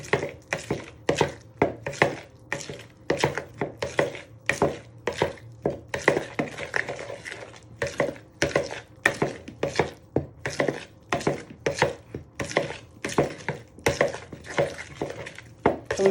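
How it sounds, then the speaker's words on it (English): A knife works a lamb kebab mixture of meat, bread flour and salt in a bowl, making rapid repeated sharp chopping taps against the bowl in an even rhythm throughout, close and alone. "you want to properly bind this together with your knife"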